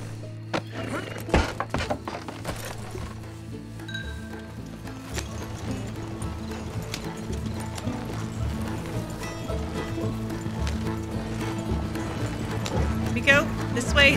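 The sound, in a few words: horses' hooves clip-clopping in Red Dead Redemption 2 video game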